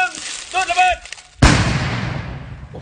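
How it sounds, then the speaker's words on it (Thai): A large unexploded bomb is detonated by an EOD bomb disposal team outdoors near a forest fire area: one sudden, heavy blast follows a voice counting down, then a long rumbling roar fades away. "3 2 1จุดระเบิด"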